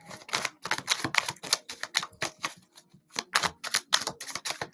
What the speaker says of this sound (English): Let me have one more card here.